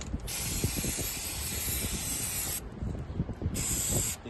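Aerosol anti-seize product sprayed onto a scale spindle and into its bushing, a close steady hiss held for a couple of seconds, a pause with faint handling noise, then a second shorter burst.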